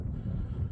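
Wind roars steadily against the microphone outdoors, a loud, low, continuous buffeting with no other sound.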